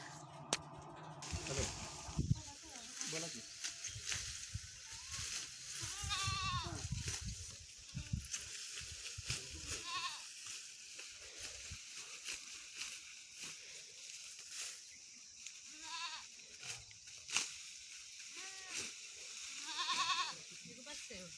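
Goats bleat repeatedly, some close and loud, others farther off, with scattered movement and bits of talk between the calls.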